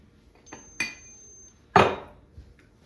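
A spoon scoops ground coffee and clinks against dishes in a kitchen, making a few light, separate taps followed by one louder, close scrape-and-clink with no talking.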